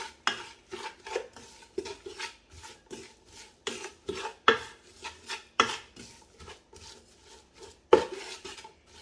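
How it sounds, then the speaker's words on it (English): A spoon stirs a pot of vegan cabbage soup, giving a quiet series of irregular clinks and scrapes against the pot, roughly a dozen soft knocks spread over several seconds with no voices. "I'm going to grab my spoon over here. I'm just going to give it a stir."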